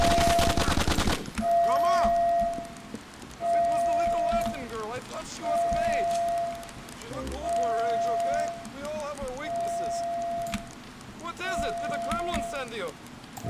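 Gunfire in GTA: The Ballad of Gay Tony, with a sharp loud burst at the start followed by repeated rattling shots scattered through, mixed with game music tones and sounds, while someone talks over much of it.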